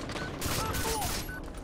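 Gunfire in Far Cry 3 sounds as a quick, loud burst of shots over busy game ambience, brief and close.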